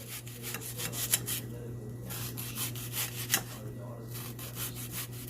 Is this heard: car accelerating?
no